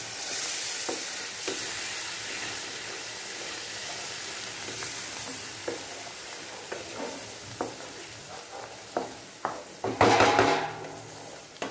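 Masala fries in a pan with a continuous sizzle while a spoon stirs it, scraping and clinking against the metal in irregular taps that grow busier toward the end. The cooking is vegetarian matar paneer, and no one speaks.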